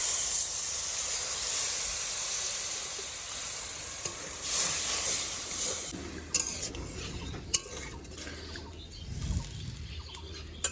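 Water poured onto fried spice paste in a pan for a village-style raw hilsa oil curry hisses and sputters steadily, with a few utensil clinks and a louder surge of bubbling near the end.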